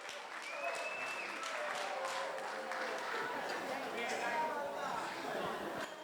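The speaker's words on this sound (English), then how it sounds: "Round of applause, come on." Audience applause for a couple after an event, a steady wash of clapping from a sizeable crowd holding at an even level, with a few faint whistles or cheers ringing out on top.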